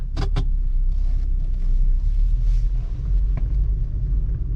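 A US-spec VW MK4 Jetta VR6 wagon drives slowly in low gear, its engine rumbling steadily up close with a brief mechanical whir near the start and a small clunk during a shift.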